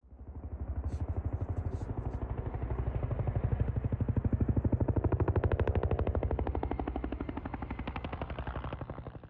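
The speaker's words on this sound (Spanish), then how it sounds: "Algunas aeronaves comienzan a elevarse nuevamente, alejándose del lugar" Aircraft engines in a Vietnam combat scene lift off and fly away. A rapid, loud chopping throb builds and then holds steady, with rotor-like pulses throughout and no speech.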